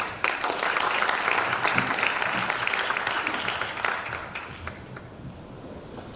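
A university audience claps to welcome a presenter at a development-plan briefing, a full burst of applause that begins strongly and gradually thins and fades toward the end.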